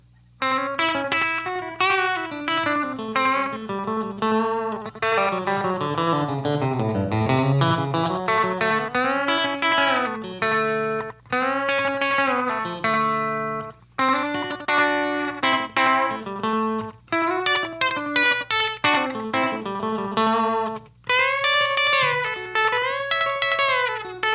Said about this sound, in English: Now I'll add a compressor and you can see how that pedal interacts with the echo effect.